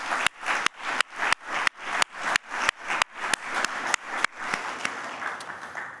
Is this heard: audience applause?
yes